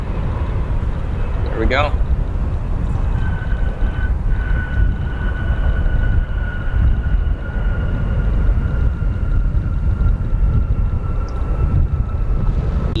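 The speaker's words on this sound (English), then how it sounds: "We'll see this United Embraer 175. That'll be coming into view in just a moment." A United Airlines Embraer 175 jet arrives at O'Hare airport, its steady broad roar filling the scene at a constant level while a person speaks briefly over it.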